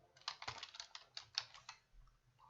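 Keys on a computer keyboard are tapped in a quick irregular run of about a dozen clicks, close and quiet, then the tapping stops near the end.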